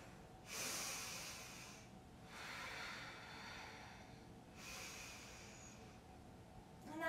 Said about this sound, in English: A couple of breaths here.